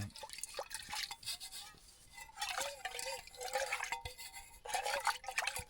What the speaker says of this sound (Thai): ผมก็จะล้างหม้อ